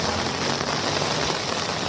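A heavy downpour in Kalyan drums on surfaces nearby as a loud, even wash of rain that runs unbroken for about two seconds, then cuts off abruptly.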